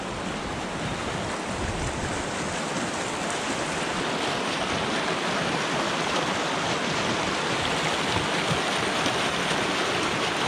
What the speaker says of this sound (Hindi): झरने चल रहे हैं